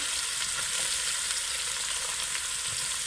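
Onion and scallion frying in coconut oil in a pan for a stewed coconut fish and shrimp dish, a dense continuous sizzle heard up close with no talking.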